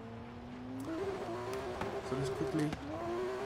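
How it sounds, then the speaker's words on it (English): A Lykan Hypersport's engine in Forza Horizon 3 revs and shifts, its pitch rising and dropping through gear changes at moderate volume, with someone talking briefly over it. "I'm going to put my foot on the clutch and just keep revving it now"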